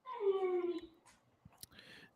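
A pet dog lets out a drawn-out whimpering howl that slides downward, close and fairly loud, followed by a few soft clicks and faint whines.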